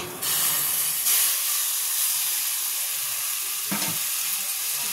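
A mango mixture hits a hot kadai with a loud burst of sizzling that settles into a steady, close hiss, and a brief scrape of stirring comes near the end.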